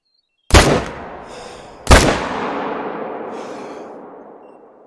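Two loud rifle shots fired at an animal in theHunter: Call of the Wild, each a sharp crack followed by a long rolling echo, spaced about a second and a half apart.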